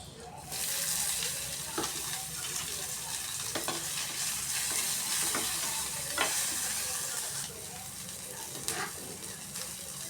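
Garlic and onion fry in a little oil with a steady sizzle, and several soft stirring scrapes and clacks come through at intervals, fairly close.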